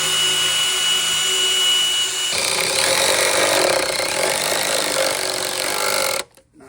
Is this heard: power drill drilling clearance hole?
yes